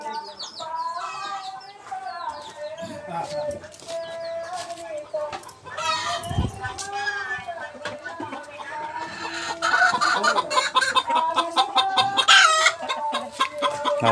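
Chickens cluck and squawk repeatedly, many birds close together, with a rooster crowing in the middle and busy overlapping calls throughout.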